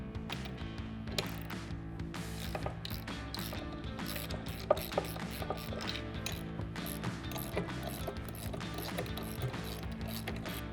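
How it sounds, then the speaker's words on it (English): A 19mm ratchet socket loosens two bolts on the speed control mechanism of a Boon Edam Turnlock 100 full height turnstile. Steady, close clicking ratchet strokes run throughout, with a couple of sharper metallic knocks midway. "we're going to take a 19mm socket to remove these two bolts right here"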